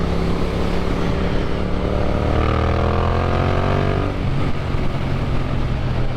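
A Yamaha MT-07 motorcycle with an upgraded aftermarket exhaust revs close by, its loud engine note climbing steadily in pitch, then dropping back to a lower, burbling idle.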